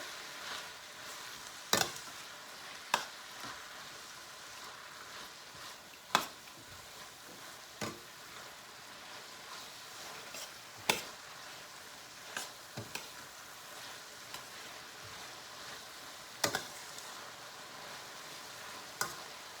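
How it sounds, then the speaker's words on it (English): Carrots and onion sautéing quietly in a pan, a soft continuous sizzle punctuated by occasional sharp utensil taps and stirs against the pan. "I'm going to saute this for a little while"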